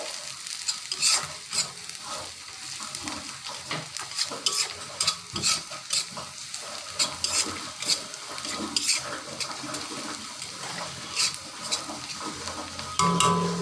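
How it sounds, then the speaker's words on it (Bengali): Cumin seeds sizzle in hot oil in a pan while a utensil stirs them, giving steady frying crackle with frequent scraping clicks against the pan, close and moderately loud, with no voices. "এর মধ্যে দিয়ে দেবো 1 চিমটি জিরা ফোড়ন। নেড়ে ছেড়ে হালকা বাদামি হয়ে যাবে"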